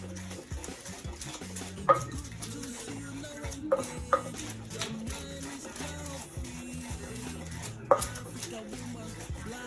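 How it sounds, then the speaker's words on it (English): Tomatoes, onion, pepper and garlic are ground and crushed by hand, giving a steady rhythmic scraping with occasional sharp knocks, close and fairly quiet. "Now, I'm about to grind my pepper."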